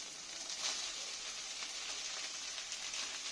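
Boiled pasta goes into a pan of hot tomato sauce, giving a soft, steady sizzle with a few brief brighter crackles, close but quiet.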